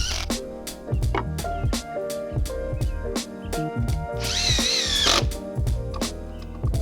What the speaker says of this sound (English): We get to add more screws on either side of the center and tighten them just enough so we can pull the plank to level